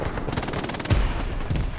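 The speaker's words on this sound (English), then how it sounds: "You can hear those MG42s going off, man" MG42 machine gun fire in Hell Let Loose, rapid bursts of rattling shots at mid distance, with a heavier thump near the middle of the short clip.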